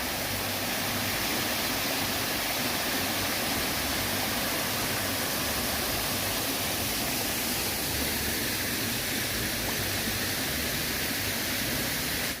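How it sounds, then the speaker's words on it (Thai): Steady, dense rush of falling water from a waterfall in a temple's waterfall garden at the foot of a hill in Thailand, broadband and continuous at close range with no voices. "ส่วนตรงนี้นะคะ เป็นสวนน้ำตกค่ะ"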